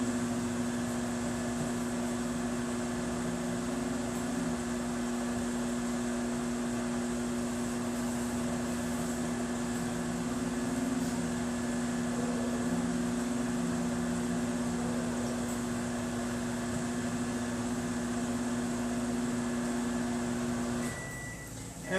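Microwave oven heating pickles, a steady, close mechanical hum with a constant tonal drone that runs unbroken for about twenty seconds before shutting off at the end.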